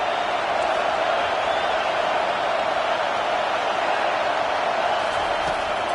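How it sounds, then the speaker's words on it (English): A steady, dense roar from a football stadium crowd fills the whole stretch at an even, loud level, a broad wash of voices with no single clear cheer standing out. "This crowd trying to make life miserable for this offense."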